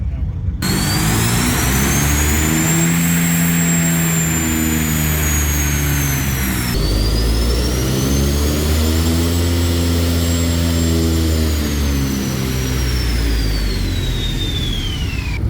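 Travis's turbocharged Cutlass wagon roars on a chassis dyno at Power Tour, engine revving hard through two long pulls with rising and falling pitch, loud and close, a turbo whine sweeping above the exhaust.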